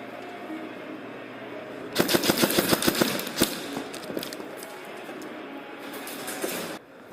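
Airsoft guns firing outdoors during a match, a rapid burst of sharp cracking shots for about a second and a half, then scattered single pops that trail off into background noise.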